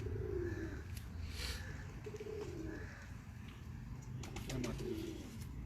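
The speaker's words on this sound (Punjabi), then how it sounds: "ਇਹ ਕਬੂਤਰ ਹੈ ਜੀ" Pigeons coo in low, repeated throaty phrases against a steady background hum, with faint chirps now and then.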